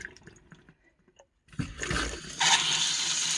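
A newly replaced bathroom tap is turned on after a few quiet clicks and handling sounds, and water starts running, building into a steady, fairly close splashing gush.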